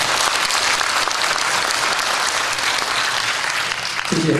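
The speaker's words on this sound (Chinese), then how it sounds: "是不是给他们一个掌声好不好？" A large audience at a Hakka community music concert claps steadily and loudly throughout, a dense, even wash of applause with no pauses.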